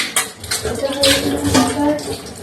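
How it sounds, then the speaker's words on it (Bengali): Dishes and utensils being rinsed under running water after scrubbing, with close clinks of plates and cutlery against each other and a steady wash of water. "বাসন মাজা হয়ে গেছে, এবার আমি ধুয়ে নেবো"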